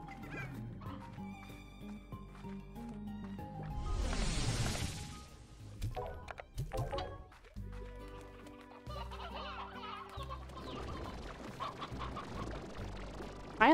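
Chickens cluck and squawk repeatedly in the farming game Slime Rancher, quiet, overlapping calls mixed with other game sound effects and a brief burst of noise midway.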